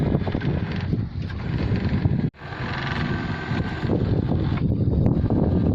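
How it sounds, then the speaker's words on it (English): Strong wind roars steadily across the microphone on a sailing boat at sea near midnight, a broad, constant rushing with one brief dropout midway. "Wind's picked up as forecasted, which is good."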